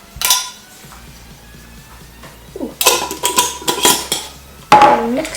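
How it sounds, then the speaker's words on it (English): Chia pudding ingredients with coconut sugar, turmeric powder and coconut milk are stirred in a bowl, a single clink, then a stretch of rapid clattering spoon-against-bowl strokes, close and loud, ending in another sharp knock. "And mix it all together."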